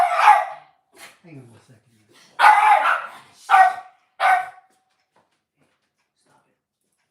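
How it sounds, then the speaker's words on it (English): Dogs fighting over food at a bowl, with short bursts of barking and growling scattered through the clip and a person speaking briefly over the commotion. "I hear my dog fighting for food."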